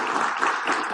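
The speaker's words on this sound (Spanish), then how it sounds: "Un aplauso." A church audience at a Bible study bursts into brief, dense applause, a loud, even clatter of many hands clapping for about a second.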